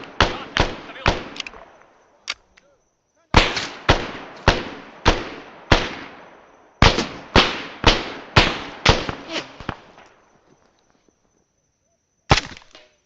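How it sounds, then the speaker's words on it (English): Ammunition cooking off from a burning weapon in Arma 3: a long series of sharp, loud cracks, popping in quick irregular clusters with short silent gaps, then one last isolated bang. "Oh, this weapon's still cooking off."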